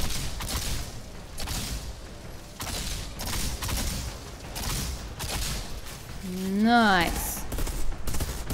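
Gunfire in the game Outriders, shooting at perforos: rapid bursts of shots repeat in a steady rhythm, with a rising whine and mechanical rattling near the end under a speaking voice.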